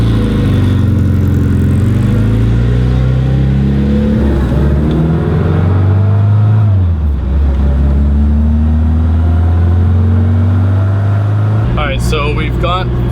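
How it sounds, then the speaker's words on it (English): A classic Mini engine warmed to a little above 80 degrees Celsius runs steadily at idle, a loud, close, continuous low hum with a slight pitch dip midway and a brief clatter near the end, with someone talking over it. "So we've got the engine running right now."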